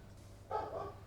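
A single dog gives a short bark-like yelp partway through, moderately loud and alone over a low background hum.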